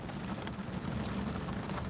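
Rain falls steadily as a dense, even hiss and patter at moderate loudness, with no voice over it.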